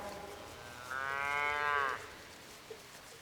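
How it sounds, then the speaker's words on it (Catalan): A single drawn-out moo from a Bruna dels Pirineus cow on an organic veal farm in the Pallars, about a second long and fairly distant, alone with no voices. "De tota la vida hem sigut criadors de vaca bruna dels Pirineus"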